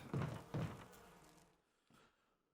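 Huge bees from the video game Resident Evil buzzing in short, loud bursts that fade away, ending with a fainter final drone.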